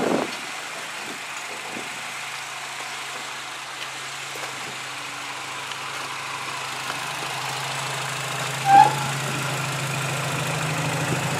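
A 2010 Nissan Sentra engine idles steadily with a low drone while the car backs off a trailer, holding an even level throughout with one brief louder blip near the end.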